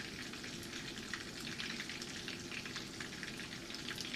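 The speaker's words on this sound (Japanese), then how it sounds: "美味しそうな色になるまで揚げていきますね" Bitter gourd (goya) fritters deep-fry in hot oil with a steady, faint, dense sizzle and crackle, continuous and alone throughout.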